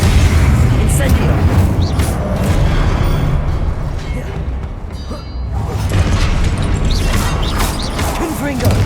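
Spell effects crackle and boom through a Hogwarts Legacy battle as the Incendio fire spell is cast amid other spells, producing a dense, loud wash of bursts and rumbling that dips briefly midway before surging again.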